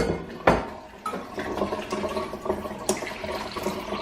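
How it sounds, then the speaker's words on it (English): Water splashes and pours into a big pot for beef bone soup, a steady churning fill with a few clanks of the pot, heard close up. "I'm going to put 8 cups of water in there."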